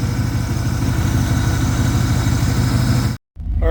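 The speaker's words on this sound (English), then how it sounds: "right now we've got it idling" A 1981 Daytona 500 pace car running on its stock GM computer-controlled engine system, idling with a steady low rumble and a pulsing throb, interrupted by a brief cut near the end before resuming.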